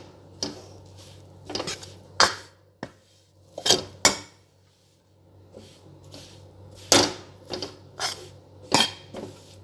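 A ladle mixes besan with ghee in a pan for besan laddu, producing a series of separate scraping and clinking metal strokes at an irregular pace, close by and with no talk.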